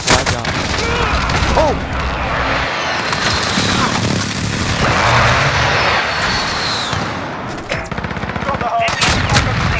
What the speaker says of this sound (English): Friendly position airstrike